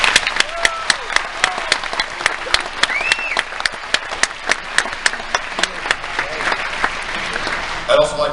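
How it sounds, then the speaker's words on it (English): An audience claps at an evening high school graduation ceremony, sustained applause with sharp individual claps standing out over a steady crowd wash. "Let's give them a round of applause."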